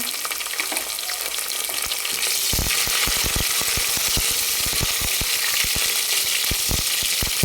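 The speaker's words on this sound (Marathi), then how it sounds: "एक मिनिटभर याला पण आपण तेलामध्ये परतून घेऊ" Halved green chillies hit hot oil and break into loud, close, continuous sizzling for a masale bhaat meal, with sharp crackles and pops spattering throughout and no voice present.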